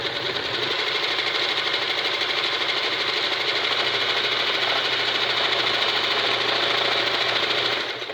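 Kenmore 1551200 straight stitch and zig zag sewing machine running steadily, a loud, even mechanical whir and rapid needle clatter held for several seconds before stopping at the very end.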